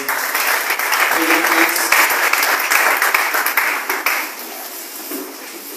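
A church congregation at a French-language worship service bursts into dense, sustained applause that fills the room, then thins and softens toward the end.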